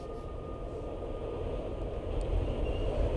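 Low, steady rumble of a subway train running through a tunnel in the video game Vampire: The Masquerade, a continuous rolling drone that swells slightly louder toward the end, with no voices.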